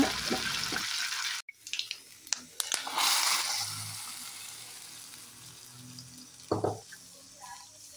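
Mustard seeds and curry leaves hit hot oil for a tempering in a home kitchen, a loud crackling sizzle up front that drops away, followed by quieter clinks and a second short burst of frying.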